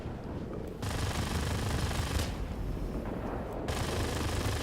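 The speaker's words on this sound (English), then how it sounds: "And it's got machine guns straight from the P-51H." Machine guns on an FJ-1 Fury jet fighter in World of Warplanes fire in long sustained bursts, loud and close, with a brief gap before the firing resumes and rattles on to the end.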